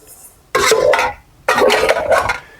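Metal cooking pans and lids clank and rattle in a boat galley, two bursts of handling about a second apart, close and fairly loud against near silence.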